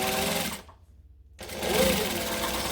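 A sewing machine back stitches a hoodie seam with a loud, fast, buzzing motor and needle clatter, cutting out briefly for a moment of near silence before starting up again just as strongly.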